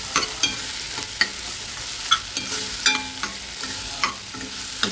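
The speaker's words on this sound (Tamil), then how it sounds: "ஒரு பெரிய சைஸ் தக்காளி சேர்த்து நான் வதக்குறேன்." A large tomato sautés in a pan for traditional wedding-style kathamba sambar, crackling steadily while a spoon knocks and scrapes the pan in sharp, repeated strokes.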